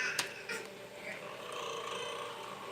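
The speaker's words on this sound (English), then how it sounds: "She's purring." A cat purring close by, a soft continuous rumbling purr with a couple of brief clicks near the start, heard alone without talk.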